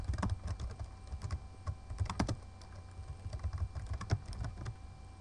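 Typing on a computer keyboard while writing code at a command line: quick, close clicking keystrokes in uneven bursts, fairly quiet, with no talking.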